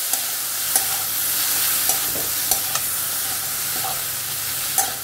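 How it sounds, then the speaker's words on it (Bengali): Paneer frying lightly in a pan: a steady soft sizzle with occasional spatula scrapes and clinks against the pan, close and clear, with no speech. "পনির গুলো দিয়ে দিলাম, দিয়ে একটু হালকা করে ভাজবো।"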